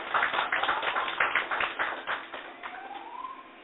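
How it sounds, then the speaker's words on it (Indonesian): Congregation in a church clapping hands together, a dense burst of many hands that fades toward the end as a faint tone rises over it. "tepuk tangan buat Tuhan."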